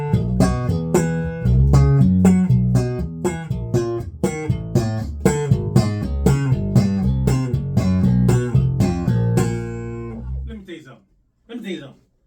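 A Peavey bass guitar is played on its front pickup, giving a clean, round tone in a steady run of plucked notes. The playing stops with a few quiet, scattered notes at the end.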